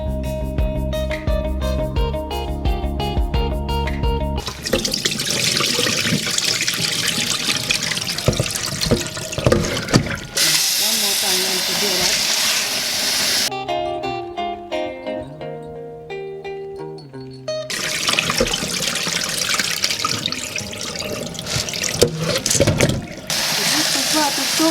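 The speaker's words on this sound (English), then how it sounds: "You have to wash it at least about 3 times until the water runs clear." Tap water running into a bowl while rinsing dried beans for a stew, a steady splashing flow with swirling and pouring, broken by brief pauses, under a speaking voice and music.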